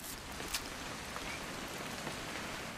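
Rain falls steadily in the video game What Remains of Edith Finch, a faint, even hiss with a few soft drop ticks and no voices.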